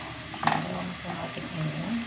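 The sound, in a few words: onion frying and being stirred in a pan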